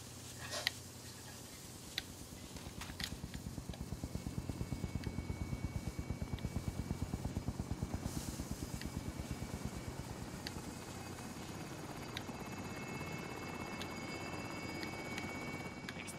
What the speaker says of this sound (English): extraction helo is ready for pickup